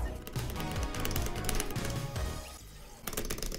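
A computer keyboard's space bar is struck rapidly and repeatedly during gameplay, dense clicky taps overlapping with busy game music and effects.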